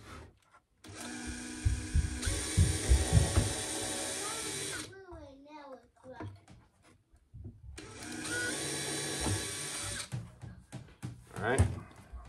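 A power drill drives 1 1/4 inch screws through 3/4 inch plywood into a thinner plywood sheet in two loud, sustained whirring bursts, with voices talking in the gap between them.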